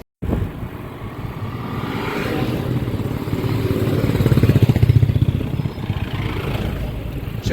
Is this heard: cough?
no